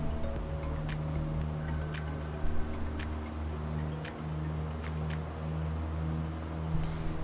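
Steady aircraft engine drone in Microsoft Flight Simulator during a Cape Town bush trip, a continuous low hum with faint intermittent clicks over it, no talking.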